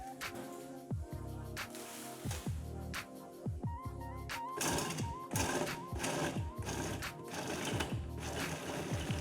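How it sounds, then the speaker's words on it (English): An electric kitchen mixer grinds fifteen small peeled onions into fine bits. The motor whirs up close in pulsing bursts, grows louder and rougher as it runs, and no one speaks. "I peel and grind them in the mixer so they become finely chopped."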